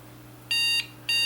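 An electronic alarm tied to a failing computer power supply gives two loud, steady high-pitched beeps separated by a short gap, close and clean over a low hum.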